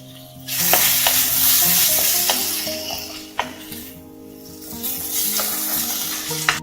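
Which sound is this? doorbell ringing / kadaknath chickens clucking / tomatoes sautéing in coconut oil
tomatoes sautéing in coconut oil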